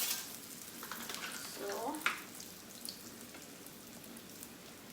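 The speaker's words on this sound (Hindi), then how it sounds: "इसको गोल्डन ब्राउन कलर आने तक फ्राई करना है" Food frying in Amul ghee until golden brown crackles and sizzles steadily, with a few stirring scrapes and a sharp clatter near the middle, while a voice briefly speaks over it.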